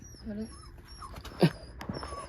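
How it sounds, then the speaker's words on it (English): Dogs whimpering and yipping nearby in a garage setting, short high whines around a sharper yelp midway, with faint background voices. "Look at the dogs."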